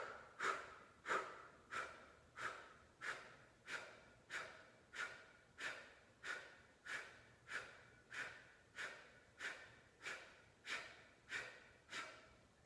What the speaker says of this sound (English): So we just did 20 breaths there.